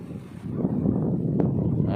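Strong wind buffets the microphone outdoors, a loud, low rushing roar that swells after a moment and stays steady, with a faint voice underneath.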